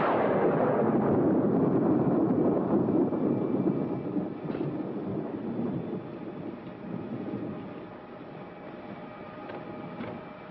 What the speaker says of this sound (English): another stormy weekend